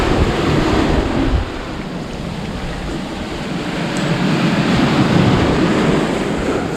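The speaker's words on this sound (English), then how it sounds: "the waves are certainly very, very serious here" Steady roar of ocean waves off Aruba near Isla di Oro mixed with gusting wind buffeting the microphone, continuous and loud throughout with no talking.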